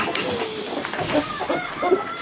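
Chickens and a Light Brahma rooster cluck in a coop, giving a few short mid-pitched calls over steady background noise, near and moderately loud.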